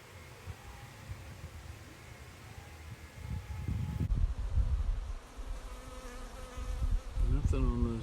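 Honey bees buzz in a dense, droning swarm around an open hive, steady at first and then swelling louder and closer over rough, windy background noise.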